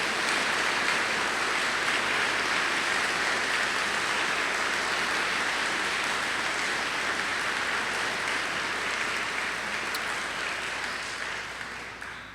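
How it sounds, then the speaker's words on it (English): Steady, dense applause from a large audience at a spring prison education program commencement ceremony, loud and continuous for the whole stretch before tapering slightly at the end, with no talking over it. "recognize the friends and family that are here today with a round of applause"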